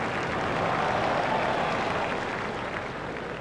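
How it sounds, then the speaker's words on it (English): Cricket crowd at Lord's applauding Badani's fifty during an England versus India one-day international, a steady broad wash of clapping and cheering that holds at an even, full level throughout with no single voice standing out. "Badani raises his bat to the crowd to acknowledge the applause."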